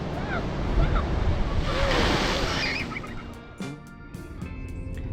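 Ocean surf rushing and crashing continuously near the rocky coastline of the Bicheno blowhole in Tasmania, with a broad roar swelling and fading, along with a few faint bird calls.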